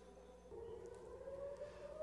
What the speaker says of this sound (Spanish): Por primera vez en meses sonaron las sirenas antiaéreas en Tel Aviv